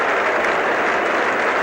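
A cricket ground crowd applauds a batsman in a dense, loud, continuous patter of clapping that fills the whole brief moment.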